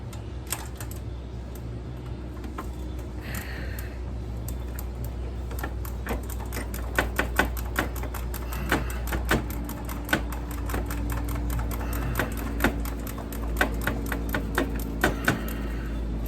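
Screws being removed one by one from a 1986 Yamaha Venture motorcycle, heard as a dense run of quick ratcheting clicks and taps, close and steady, over a constant low hum and with sharper knocks now and then.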